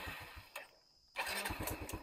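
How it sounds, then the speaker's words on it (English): A semi-automatic motorbike in Vietnam is started with its ignition button: a short starter burst, a brief lull, then the engine catches and runs with a steady, close, loud idle. "So now the engine starts."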